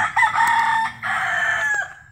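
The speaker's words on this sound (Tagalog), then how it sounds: "ito yung aking manok na alaga" A native Bisaya rooster crows loudly and close by in one long, drawn-out call, with a brief break partway through.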